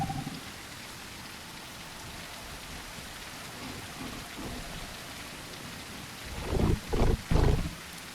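Steady rain hisses through the night in the dinosaur survival game The Isle Evrima, with a few low rumbling thunder bursts rolling in near the end.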